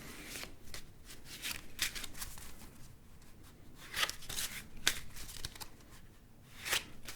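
Deck of playing cards shuffled up close, quiet riffling bursts and crisp flicks in an irregular rhythm, rising to sharper snaps at moments, with no talking.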